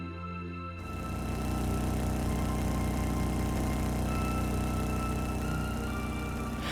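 A steady motorcycle engine drone from the RPG The Legend of Heroes: Trails of Cold Steel starts abruptly and then holds an even, humming idle with constant overtones, loud and unbroken throughout.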